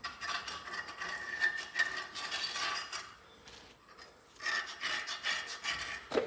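Someone scrapes the back of a metal part clean with close, rasping strokes in a steady rhythm, pausing briefly midway before scraping again. No voices.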